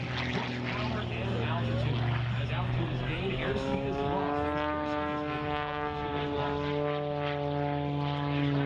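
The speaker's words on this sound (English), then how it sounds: "Revolutionary design and maneuverability of this German-built composite airplane." German-built composite propeller airplane performing at a Maine airshow in 2021, its engine droning steadily with shifting pitch as it maneuvers, under a commentator's voice.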